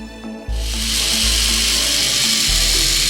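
A small K'nex roller coaster motor starts up and runs indoors with a steady whirring drone, accompanied by a rhythmic low mechanical thump repeating, loud and close.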